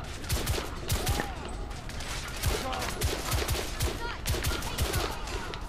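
Enemies in The Order 1886 shoot in rapid, irregular volleys of gunfire, sharp cracks repeating throughout at close range over a dense battle din.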